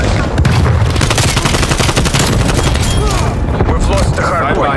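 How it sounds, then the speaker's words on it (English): Dense gunfire in Call of Duty Black Ops Cold War, with rapid automatic bursts and booming blasts from a thrown frag grenade layered over continuous battle noise, loud and close throughout, with game voice chatter mixed in. "Throwing frag grenade."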